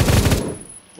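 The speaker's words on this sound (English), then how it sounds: "automatic MGs have a very negative recoil" Automatic machine gun fire in the Roblox shooter Phantom Forces, a loud rapid burst of about five shots that cuts off partway through, leaving a fading tail and faint background.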